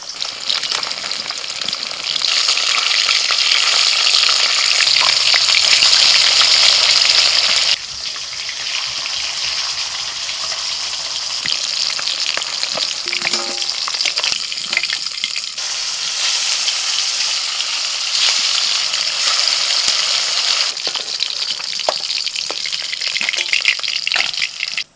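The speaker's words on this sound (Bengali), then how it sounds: "তেল ভালো করে গরম করে নিয়ে এবার মাছটা ভেজে নেব" Pieces of desi silver carp fry in hot oil with a loud, continuous sizzle and crackle that rises and falls as the fish is moved around the pan.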